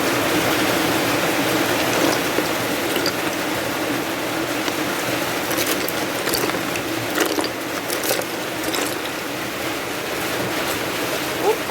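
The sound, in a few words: heavy rain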